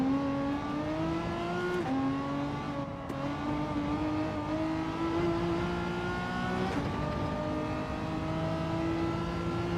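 Racing car engine in Gran Turismo 7 held at a steady high drone for a full lap on hard tyres, with pitch rising and falling through gear changes and no talk over it.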